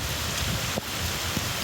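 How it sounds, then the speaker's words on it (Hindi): Heavy rain falling in Punjab, a steady broadband hiss of downpour with faint drop hits and gusty wind, continuous and fairly loud throughout, no voices. "पंजाब में तेज हवा के साथ कहीं मूसलाधार तो कहीं हल्की बारिश ने रंग जमा दिया।"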